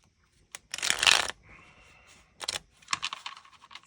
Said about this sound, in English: I'll go ahead and shuffle up the deck